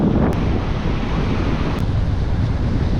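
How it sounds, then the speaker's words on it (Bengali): Steady roar of surf washing onto Puri beach on the Bay of Bengal, with wind buffeting the microphone throughout; no voices. "সামনে সুন্দর ঢেউ দিচ্ছে"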